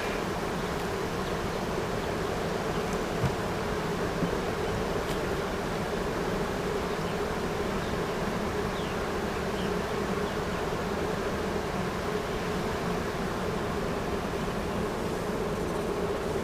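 A honeybee swarm gives off a steady, dense buzz that holds level the whole time, close and continuous with no talking over it.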